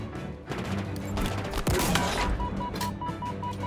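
Halo Infinite gunfire: a dense, continuous barrage of shots and impacts, with a loud burst near the middle and a steady electronic tone underneath, no talking.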